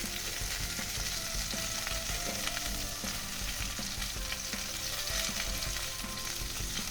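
Drumstick curry frying in a pan with turmeric and salt being stirred in, a dense, even sizzle with soft scraping from stirring, steady and uninterrupted throughout.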